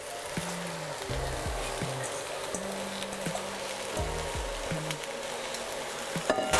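Onions and spinach frying in a pot over medium heat give a steady low sizzle, broken by repeated knocks and scrapes of a utensil stirring. No one talks.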